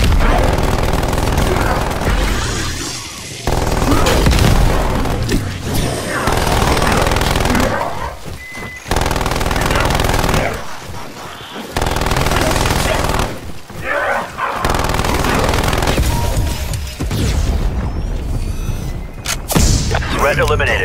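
Rapid bursts of automatic fire from a sentry turret in Call of Duty: Black Ops Zombies Onslaught, loud and dense with booms and thuds, broken by short pauses, game voices speaking in places.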